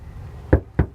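Two sharp, close knocks rap on a door about a quarter second apart, each a short thud, against a quiet background with no voices.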